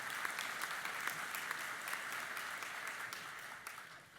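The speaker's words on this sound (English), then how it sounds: "you're welcome to applaud" A graduation crowd applauds the college faculty and staff, with dense, distant clapping forming a steady wash that fades slightly toward the end.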